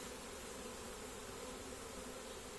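A honeybee swarm being collected with a pole, many bees fanning to call the others: a dense, continuous buzzing hum, steady and close, with no voices.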